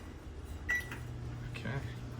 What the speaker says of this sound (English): the experiment calls for 10 to 15 seconds in the microwave